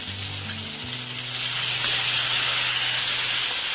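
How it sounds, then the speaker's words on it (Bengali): Spiced water poured into frying Bengali tel koi fish curry, a low pouring gurgle that swells into a loud, sustained hiss and sizzle, close and alone. "মশলা দেওয়া জলটাও দিয়ে দেব।"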